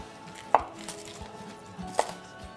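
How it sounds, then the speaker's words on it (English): A knife cuts the stems out of leafy greens for vegetable soup, giving two sharp, separate chops on a board about a second and a half apart, close by and fairly quiet against a soft kitchen background. "So I'm just kinda cut the stem out of it."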